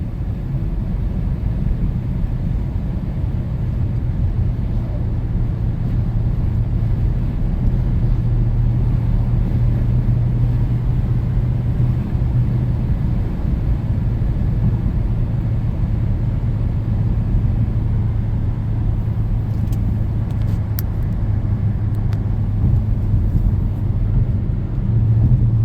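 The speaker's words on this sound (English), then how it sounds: "Hear that V8? Just keeps pulling." From inside a 2000 Audi A6 4.2, the V8 engine pulls hard under acceleration, a steady low rumble and droning hum with road noise throughout, moderately loud and without voices.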